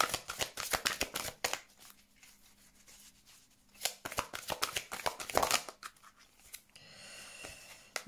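Oracle cards are shuffled by hand in close, crisp bursts of riffling and sliding, separated by quieter pauses, with no talk.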